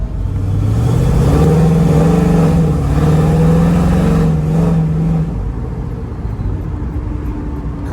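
A 1967 Chevrolet Camaro SS with an LS engine accelerates on a drive, its steady engine note climbing in pitch over several seconds and then settling as it cruises, loud and close with road noise beneath.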